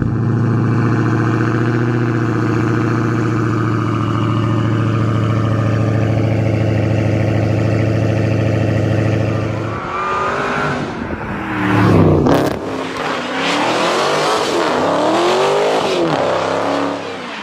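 A 6.2 litre Mopar V8 idles with a steady deep rumble, then revs hard several times in loud rising and falling bursts, close by.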